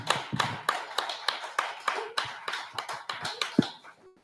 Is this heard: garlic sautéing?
no